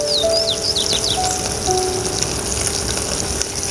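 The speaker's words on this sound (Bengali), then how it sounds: "আমি মাছটা ভাজতে দিয়েছি।" Fish fries in a tiny miniature pan, giving a steady, close sizzling hiss throughout, with a few faint bird-like chirps in the background.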